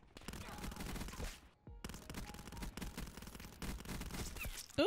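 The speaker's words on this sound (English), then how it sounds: "I just kept shooting." Rapid automatic gunfire from the Daemon 3XB weapon in a shooter game, dense sustained bursts broken by a brief pause, loud and continuous throughout.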